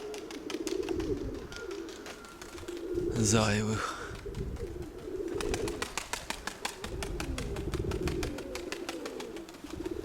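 Pigeons cooing in a loft, soft repeated coos with a burst of wing flapping near the middle and rapid wingbeats later, while someone talks over them.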